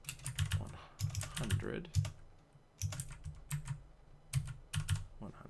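Rapid keystrokes on a computer keyboard come in close, uneven bursts while someone talks over them.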